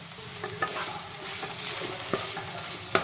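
Radish curry with lentil dumplings (bori) and coriander leaves is stirred in a pan over a soft background sizzle, with a few light scrapes and clinks of the spoon. It is quiet and close.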